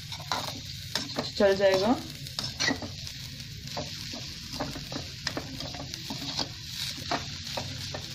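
Sugar stirred briskly in a hot pan for coconut ladoo, a steady scraping and faint sizzle throughout, with a few words spoken briefly over it.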